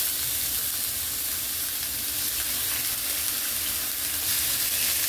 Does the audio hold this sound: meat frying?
yes